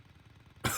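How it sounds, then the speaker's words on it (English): A brief throat-clearing burst from a character in the MadWorld video game, arriving abruptly after a stretch of low rumbling background, loud and close. "Clear your throat and answer my question"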